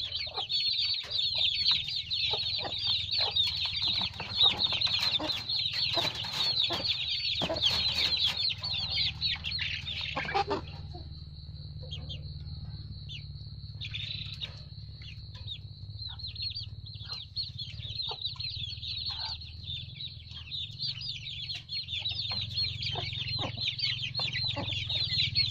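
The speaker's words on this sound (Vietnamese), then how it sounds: "Mình cho gà ăn chắc tối vậy thì nó mau lớn" A flock of chickens clucks steadily while drinking water and eating in the evening, a dense continuous chatter of close-up calls over a low background hum, with no talking.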